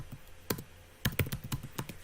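Keys tapping on a computer keyboard, close and clear, as a short irregular run of crisp clicks: a couple of isolated presses, then a quicker burst of typing toward the end.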